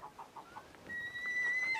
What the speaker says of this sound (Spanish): Esto es un halcón sacre.